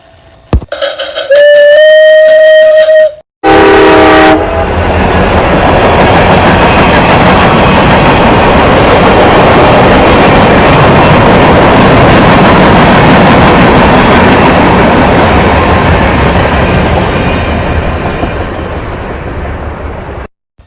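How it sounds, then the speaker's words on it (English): A train passes close by after a short horn blast in two bursts, followed by a long loud rumble and rattle of wagons and wheels that fades out at the end. "T is for train."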